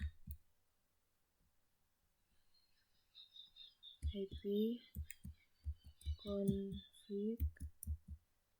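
Keys click on a computer keyboard as ipconfig is typed and Enter is pressed, producing a quick run of close, crisp taps over a quiet room, with a voice talking across the typing.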